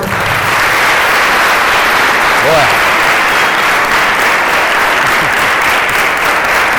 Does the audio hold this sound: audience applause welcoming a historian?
yes